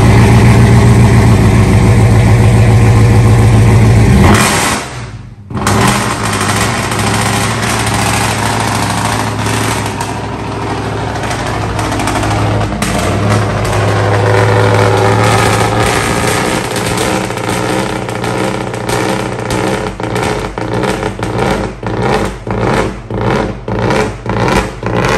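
A loud engine on a lifted, supercharged Ford F-150 runs steadily, cuts out, then restarts and settles into a rumbling idle with repeated revving pulses toward the end.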